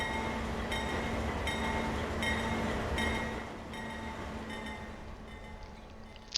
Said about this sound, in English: we got a train coming out right here